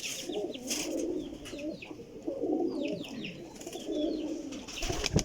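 A lot of pigeons of old breeds coo together in repeated low, throaty rolls with a few sharper chirps and wing or cage noises mixed in, heard close at moderate volume and without talk.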